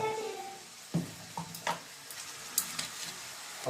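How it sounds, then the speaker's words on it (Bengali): Spices frying in a pan while being stirred, a soft steady sizzle broken by several scraping knocks of the spoon against the pan, close and fairly quiet. "এবার ভালো করে নাড়াবো"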